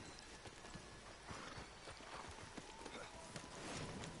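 Horse hooves clip-clopping at a steady trot over a hard surface in the video game Red Dead Redemption 2 Online, quiet and slightly muffled, with a faint background hum.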